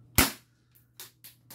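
A K35DA 1911 spring-powered airsoft pistol fires one sharp, loud snapping shot during a chronograph test, followed by a few fainter clicks and taps.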